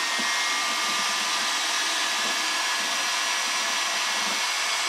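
A heat gun blows steadily and loudly throughout, heating PVC to expand a hose connection, with a continuous broadband airy roar that does not change.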